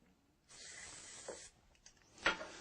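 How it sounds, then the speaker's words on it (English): Aerosol can of Shield T9 drying lubricant sprayed into a drill chuck, a steady close hiss of about one second followed by a few faint handling clicks and a brief sharper burst near the end. "you'll want to apply a film of a drying lubricant like Shield T9 up"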